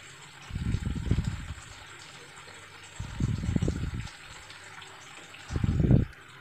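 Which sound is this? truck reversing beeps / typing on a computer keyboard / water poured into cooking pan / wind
water poured into cooking pan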